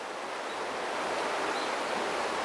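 Mountain stream water in Odaesan valley rushes and flows, making a steady, close, full-bodied wash of broadband noise that never lets up and has no voices over it.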